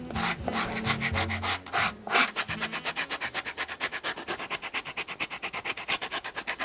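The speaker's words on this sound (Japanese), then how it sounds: "まずここちょっとヤスります。 ヒールのつく部分を軽く荒らしていきます。" Sandpaper roughens the heel-seat area of a leather shoe with quick, rhythmic back-and-forth rasping strokes that speed up into a steady, close, even scrubbing.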